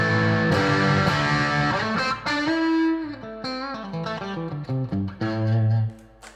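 Electric guitar played through an amplifier's overdrive channel with no pedal, giving a classic British overdrive: loud, gritty chords and single notes ringing and sustaining, alone with no talk.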